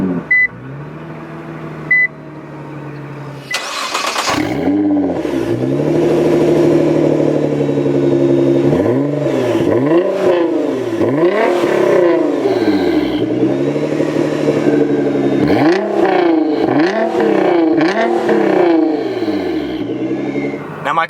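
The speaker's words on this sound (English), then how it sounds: "This is a straight pipe catless exhaust, so it definitely sounds pretty amazing." A Nissan GT-R R35 with an Armytrix catless straight-pipe exhaust starting up, a chime followed by a loud crank and roaring catch, then a steady idle broken by repeated sharp throttle blips and revs.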